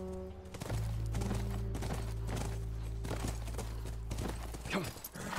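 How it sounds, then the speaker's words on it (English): Horse hooves clip-clopping in the video game The Last of Us, a run of close, fairly loud hoof beats over a low steady hum. "That's our horse."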